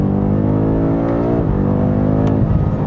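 A BMW M5 CS with a torque converter automatic pulls hard, its loud engine drone rising and then dropping abruptly at a gearshift, with a distinct shift jolt partway through.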